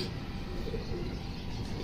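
A female breeder pigeon coos softly while held in a hand, a low steady murmur running throughout against faint background noise.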